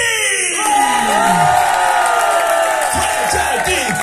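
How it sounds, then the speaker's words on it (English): A live concert crowd at a metal show in Sala Groove, Portugalete, screams and cheers in a loud, sustained roar close by, with whoops and shouts rising over it. "I want to hear a huge, huge scream for our friends and brothers"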